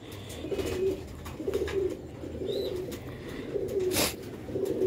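Black-faced Sheikh pigeons coo in soft, repeated low phrases, a steady rhythmic murmur set against a busy outdoor background with a few faint chirps.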